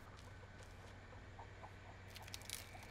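A chicken clucks in The Texas Chainsaw Massacre game: a few faint, scattered clucks over a steady low hum, with a brief louder flurry near the end and no voices.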